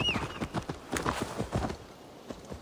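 Horse hooves in Assassin's Creed Valhalla clop in a quick, steady rhythm, close and clear, with no talking.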